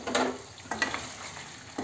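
Marinated meat with spices frying and being stirred in hot oil, a steady close sizzle with bursts of scraping at the start, middle and end.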